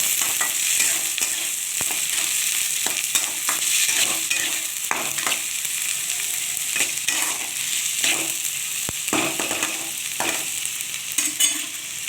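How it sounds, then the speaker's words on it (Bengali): Onion and tomato frying with bay leaf in a pan make a continuous bright sizzle, with repeated scraping and clinking of stirring throughout, close up and with no voices. "এখন এটা ভাজা করতে বসিয়ে দিয়েছি। পেঁয়াজটা ভালোভাবে ভাজা হবে।"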